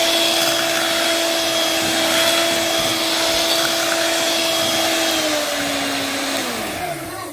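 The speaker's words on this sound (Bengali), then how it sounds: "ব্লেন্ড করে নেব" A kitchen blender whirs loudly and steadily while blending mango and whipped cream into an ice cream mix. The motor's even whine carries with no talking and winds down in pitch as it switches off at the end.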